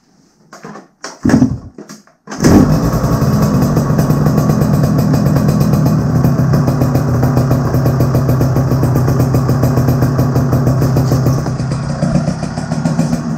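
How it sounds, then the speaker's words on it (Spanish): A Derbi moped fitted with a vintage Metrakit exhaust starts after a few sputtering tries, then runs steadily at a loud, close, buzzing two-stroke idle with a slight rasp, with no voices. "ya tenemos el escape montado, así que vamos a ver cómo suena"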